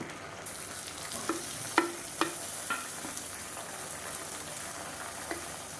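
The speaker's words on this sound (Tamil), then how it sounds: "இப்போ இந்த ஸ்டேஜில் நீளமாக நறுக்கின பெரிய வெங்காயம் அதையும் சேர்த்துக்கலாம்." Sliced onions and green chillies fry in coconut oil with a soft, steady close sizzle, broken by a few sharp stirring clinks and scrapes of a utensil in the pan.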